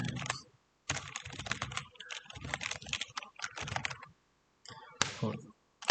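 Rapid keystrokes on a computer keyboard typing a pip install command, heard close up in irregular bursts of clicks with brief pauses between.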